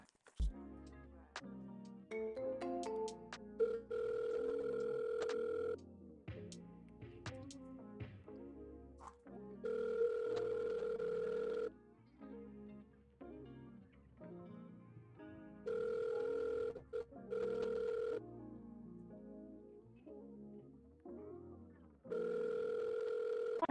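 An outgoing phone call rings with a repeated two-tone ring pattern, four evenly spaced rings in steady bursts with quiet gaps, faint and alone with some low background noise.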